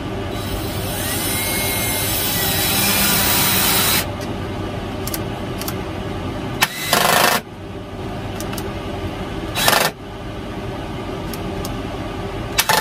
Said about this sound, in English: I just forgot to turn the exhaust fan off in the paint booth.